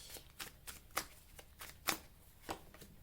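A deck of tarot cards being shuffled, giving a run of quick, irregular riffling bursts that are close but soft, with no voices.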